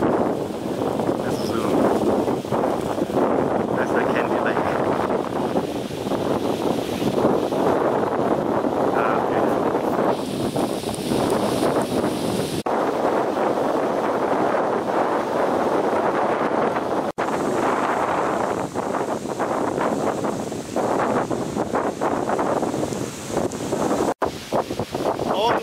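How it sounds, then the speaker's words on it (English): Strong wind at the Buddha viewpoint in Kandy, Sri Lanka, roaring and buffeting into the microphone in loud continuous gusts for the whole stretch, with a few abrupt dropouts. "Very windy, okay?"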